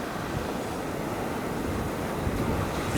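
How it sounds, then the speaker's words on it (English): Steady broadband wash of ocean waves on Portugal's Silver Coast, a continuous close rumble and hiss with no distinct breaks, mixed with some wind noise on the microphone. "Listen to those peaceful waves."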